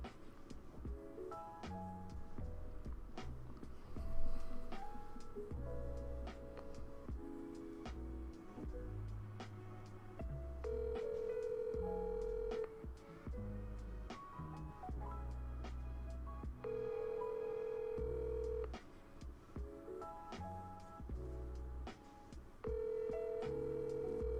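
An outgoing phone call ringing unanswered, repeated electronic ringback tones in a steady pattern with pauses between them, heard over a phone line.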